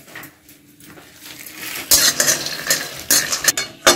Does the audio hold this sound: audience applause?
no